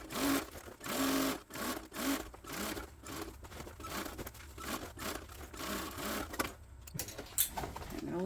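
A sewing machine stitches the bottom seam of a Rachel tote bag in short bursts, stopping and starting with pauses, close and fairly loud, along with faint handling rustles of fabric.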